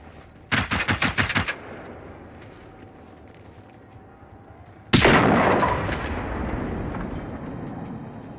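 Gunfire in the video game Generation Zero: a rapid burst of about eight automatic shots, then a single heavy blast with a long rumbling decay, loud and close with no talking.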